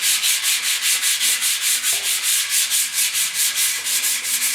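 Hand sanding of a 1972 Ford air cleaner with a small flexible sanding block, a steady run of quick rhythmic strokes, close and fairly loud, with no talking.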